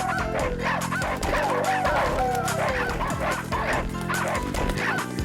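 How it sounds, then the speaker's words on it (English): Cartoon dogs in Space Channel 5 Part 2 bark and yip in rhythm with loud, dense dance music, the short yelps landing on the beat throughout. "the dogs bark in time with the music"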